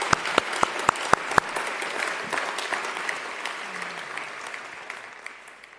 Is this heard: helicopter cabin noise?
no